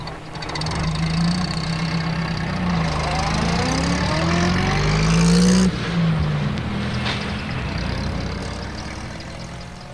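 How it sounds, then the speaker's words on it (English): A postman's van engine turns over and starts, then revs and whines upward as it pulls away, loud and close before fading to a steady drone, with no talking. "Pat started up his van."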